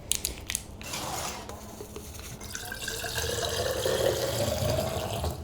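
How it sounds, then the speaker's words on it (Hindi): A Nutrabay Creatine Fizz sachet dissolves in a glass of water, giving a continuous close hissing and crackling fizz that swells steadily over several seconds after a brief clatter at the start. No voices. "कितना ज़्यादा फिज बन गया इसमें"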